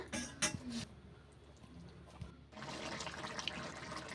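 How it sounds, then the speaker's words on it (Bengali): Egg curry with cauliflower boiling in a pot, a few brief clattering knocks at first, then a steady, fairly close bubbling hiss that fills the last part. "এবারে আমি পাঁচ মিনিট ধরে ভালো করে ফুটিয়ে নেবো"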